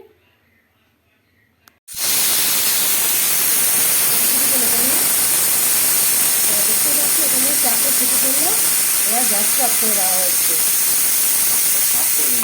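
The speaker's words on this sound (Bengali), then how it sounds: "গ্যাসে আমরা প্রেশার কুকারটা বসিয়ে দিয়েছি" Pressure cooker on a gas stove with mutton for biryani, a loud steady hiss of escaping steam starting abruptly and continuing unbroken, with faint speech briefly audible before it and murmuring voices faint beneath the steam.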